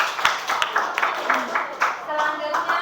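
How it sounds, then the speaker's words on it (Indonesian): Students clap in an Indonesian classroom, the claps coming as light, uneven bursts mixed with background chatter and voices. "tepuk tangan untuk kalian sekali lagi."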